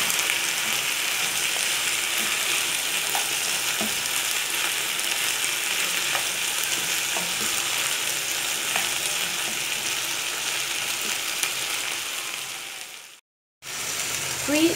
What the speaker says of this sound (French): Je vais laisser mijoter pendant 2 minutes.